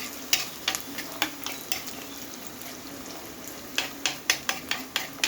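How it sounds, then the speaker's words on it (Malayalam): Onion, green chili and ginger sautéing in coconut oil, with a steady close sizzle and spoon strokes scraping the pan, sparse at first and then in a quicker run of clinks near the end. "അങ്ങനെ നമ്മുടെ ഉള്ളിയും പച്ചമുളകും ഇഞ്ചിയും എല്ലാം ഒന്ന് വഴണ്ട് കിട്ടി."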